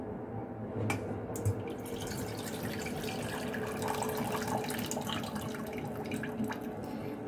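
Hot marinade is poured off from jars of pickled cucumbers with lemon, a steady trickling and splashing of liquid running continuously at moderate level, with a couple of faint clinks early on.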